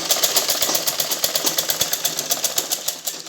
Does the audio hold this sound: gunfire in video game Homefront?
no